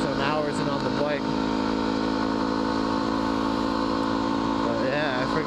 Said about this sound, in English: Just riding, getting some hours in on the bike.